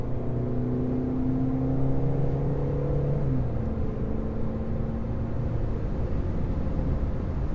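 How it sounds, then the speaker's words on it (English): A 2011–2018 VW Jetta with the 2.0L naturally aspirated engine cruising at speed on a main road: a steady cabin drone of engine hum and road noise, with engine tones gliding down partway through. "I'm going to take it out on this main road where I can get it up to speed a little bit"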